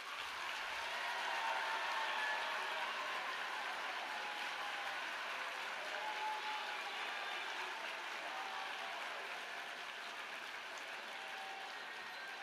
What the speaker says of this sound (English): please applaud your directors today